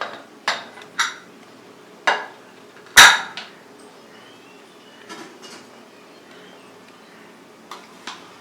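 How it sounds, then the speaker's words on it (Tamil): A ladle stirs cooked kootanchoru rice inside an opened pressure cooker, giving a few scattered metallic scrapes and clanks against the pot, one louder knock midway, with quiet pauses between and no talking. "இதை நல்லா ஒரு தடவை கிளறி விட்டுடலாம்."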